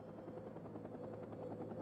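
A steady, droning rotor whir from a helicopter in the war video game Red Dragon, continuous and fairly faint, with no other sounds over it.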